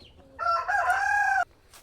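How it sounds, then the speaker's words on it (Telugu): A rooster of an Indian country breed on a Nellore poultry farm gives one full crow, loud and nearby, lasting about a second against quiet farm ambience. "ఇంకో తెల్లపుంజి కూడా వస్తుంది చూడండి"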